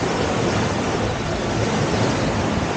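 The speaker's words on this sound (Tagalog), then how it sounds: "Ang sarap ng tunog ng hampas ng dagat" Sea waves break on a seashore in La Union as a broad, steady roar, loud and continuous with wind buffeting the microphone and no voices.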